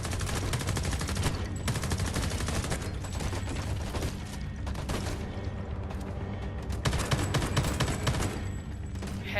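Rapid automatic gunfire rattles in dense bursts in the shooter game Homefront: The Revolution, with brief pauses between volleys. The shots are loud and close, with mechanical clicks between them and no talking.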